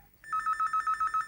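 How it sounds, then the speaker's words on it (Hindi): A telephone rings in a home, a bright electronic bell trilling in a rapid, steady pulse of about six bursts after a brief quiet start, loud and close with no voices. "टेलीफोन बज रहा है"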